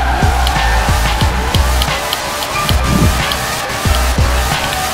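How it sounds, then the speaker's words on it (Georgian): A car drifting in Forza Horizon 4, engine droning steadily while tires squeal in repeated sweeping bursts as it slides through turns, loud and continuous throughout. "მოდი მივადგათ და დაიწყოთ პატარა დრიფტები"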